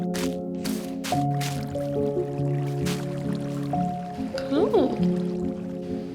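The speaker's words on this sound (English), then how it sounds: "I actually needed some small drip leaves for this area, so I'll add them now." Small drip leaves placed in a lush cave build in Minecraft 1.21, with soft block-placing pops and squishy drips over steady tonal music, while a voice speaks briefly.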